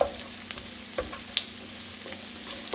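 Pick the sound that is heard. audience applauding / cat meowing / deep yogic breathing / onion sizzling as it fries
onion sizzling as it fries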